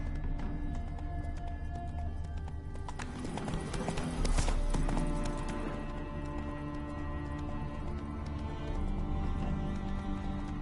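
In the video game Witcher 3, a horse gallops with a quick, rhythmic clatter of hooves over a steady ground rumble, moderately close and with no talk over it.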